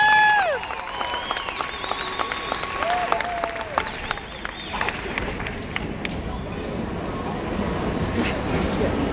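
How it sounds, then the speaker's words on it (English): An audience applauds for Sombra del Monte at the Spirit of Hope Challenge 2011 awards, with sustained, dense clapping and cheering that runs throughout alongside crowd voices and a few whistle-like tones early on. "How about a big round of applause now for Sombra del Monte?"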